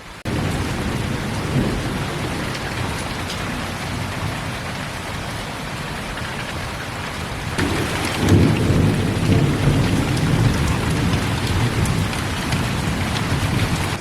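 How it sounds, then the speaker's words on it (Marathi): An unseasonal afternoon rain shower in Konkan pours steadily on surfaces with a dense hiss, while thunder rolls in a heavy rumble about halfway through and the downpour swells louder afterward. "हळूहळू पाऊस मोकळा करतो आहे. म्हणजे ॲक्च्युली पावसाचं प्रमाण काही कमी झालेलं नाही आहे"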